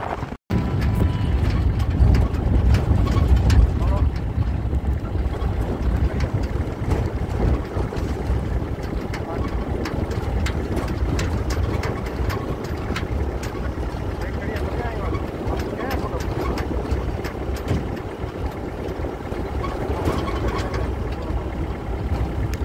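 A vehicle engine rumbles continuously with heavy wind buffeting the microphone, a loud, constant roar throughout, recorded from atop the moving vehicle at a horse race practice.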